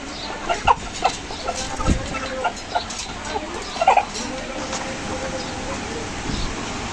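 Parent stock chickens on a Bangladeshi poultry farm clucking and squawking in short bursts as one of the biggest birds is caught, close by, with a voice faintly talking underneath.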